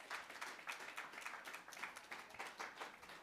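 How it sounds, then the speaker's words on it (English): An audience at a national reparations convention claps for itself, brisk, fairly distant applause with an uneven patter of individual hands, steady and moderately faint throughout. "Give yourselves a round of applause."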